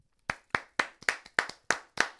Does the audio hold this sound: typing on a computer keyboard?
no